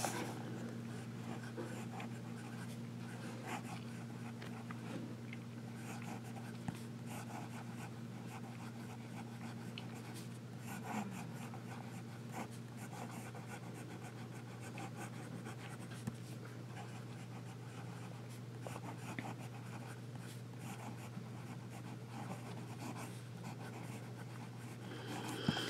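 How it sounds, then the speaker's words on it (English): An Esterbrook Estie Maraschino fountain pen nib writing on paper: faint, continuous scratchy strokes over a steady low electrical hum, close and unhurried, with no speech. "some writing now here and see how it writes"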